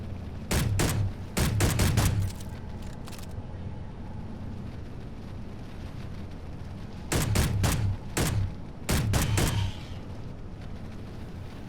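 Bursts of video game gunfire in two clusters of rapid shots, loud and close, with a quiet gap between the volleys.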